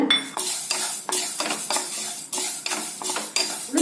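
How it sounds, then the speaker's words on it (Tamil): Dry roasting black gram in a pan, with a utensil stirring and scraping the dry lentils in repeated strokes that rasp against the metal, close and steady with no talk. "அடுத்தது பாருங்க கருப்புளுந்து வறுத்துக்கலாங்க இதுவும் அப்படிதாங்க ட்ரையா வறுத்துக்கணுங்க"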